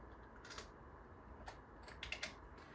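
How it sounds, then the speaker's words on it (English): Quiet keystrokes on a computer keyboard during a Windows 8 demonstration, a few scattered taps and a short cluster of clicks, faint and close, with no one speaking. "You can just start typing at any moment."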